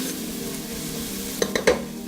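Prawn curry is stirred in a pot, a soft continuous simmer and sizzle broken near the end by a few quick scraping and clinking strokes of the utensil.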